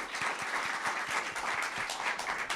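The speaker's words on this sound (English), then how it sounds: "Big round of applause." Audience applause fills a conference hall after a talk on venture capital investment, a dense steady wash of many hands clapping at moderate level, continuous throughout with no voices over it.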